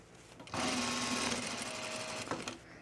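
Sewing machine stitching a hem on an Ellsworth jacket, one close steady run of about two seconds that starts and stops abruptly.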